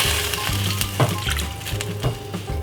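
Beef sizzles steadily in a frying pan with a little water added, a close, continuous crackle broken by a few soft clinks and stirs.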